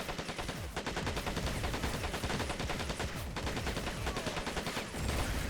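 A firefight in the Planetside Arena video game produces dense, continuous rapid gunfire with rattling automatic bursts and overlapping shots. The shooting is loud and sustained throughout, with no talk over it.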